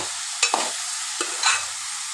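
Ridge gourd and moong dal fry in oil with a constant soft sizzle, broken by a few brief stirring scrapes of a spoon against the pan.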